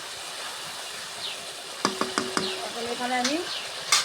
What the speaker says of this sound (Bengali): দেখেন মশলাটা আমার লাল লাল করে আমি কষে দিচ্ছি।